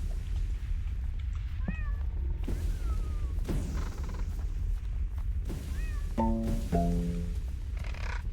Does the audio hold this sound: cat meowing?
yes